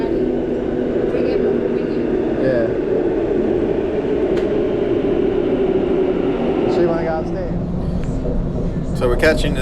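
Steady rumble of a commuter train running into Sydney, a constant loud rolling drone with faint squeals and rattles throughout, and a voice speaking briefly over it.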